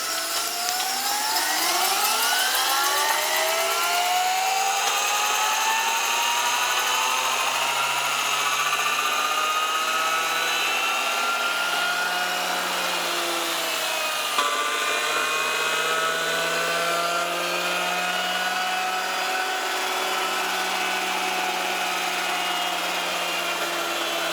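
A motor in a home-built electric car whines steadily at close range, with pitch sweeping up and down over a continuous high hum and no talk.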